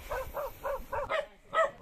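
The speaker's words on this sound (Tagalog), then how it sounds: "cute ng aso, tataba." A dog on a farm lot barks in a quick series of about six short yaps, fairly close and clear, the last two sharper and louder.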